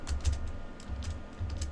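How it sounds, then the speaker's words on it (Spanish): Quiet keystrokes on a computer keyboard as Control and the space bar are pressed, several soft, close clicks in an irregular rhythm over low background hum. "presionan Control y luego la barra de espacios en el teclado"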